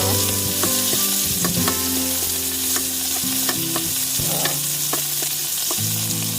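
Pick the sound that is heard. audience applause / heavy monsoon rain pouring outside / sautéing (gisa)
sautéing (gisa)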